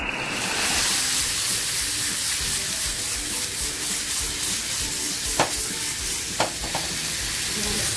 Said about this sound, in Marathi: आता हे जे बोंबील मी लावून ठेवलेत ना ते मी तेलामध्ये सोडणार आहे